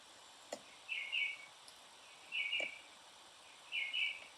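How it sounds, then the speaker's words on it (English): Three short bright bird calls sound over a quiet background, spaced a second or so apart, with a couple of faint clicks between them. "I can hear some lovely birds"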